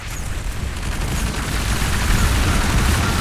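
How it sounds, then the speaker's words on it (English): Rapid gunfire from Uptecton units in a real-time strategy game, a dense continuous barrage of overlapping shots that stays loud and steady throughout with no pauses. "Uptecton shots are pretty good here, clearing all of the front lines."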